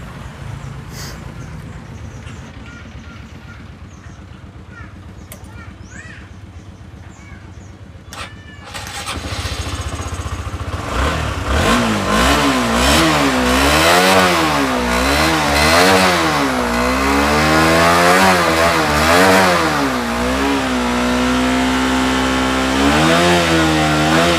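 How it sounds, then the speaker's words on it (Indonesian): Honda CBR 150R motorcycle engine cranks and catches after a quiet stretch, then idles and revs repeatedly in rising and falling sweeps, loud and close, with no talking. "Oke, kita coba hidupkan saja motornya."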